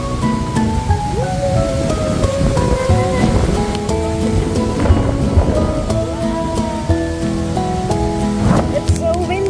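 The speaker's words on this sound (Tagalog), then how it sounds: "It's so windy today!" Strong wind at a mountaintop resort buffets the microphone in a constant loud, rumbling roar, with people talking faintly underneath.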